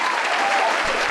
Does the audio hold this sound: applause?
yes